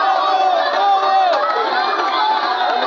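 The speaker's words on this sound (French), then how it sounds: "Et c'est le public qui applaudit." Spectators at a boxing match in Mbujimayi roar and shout together, a loud continuous crowd din of raised voices and cheering with little distinct clapping.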